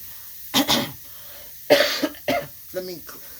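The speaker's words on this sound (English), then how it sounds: "Let me clear my throat." A person clears their throat in several short, rasping bursts, close and fairly quiet, followed by a brief voiced sound.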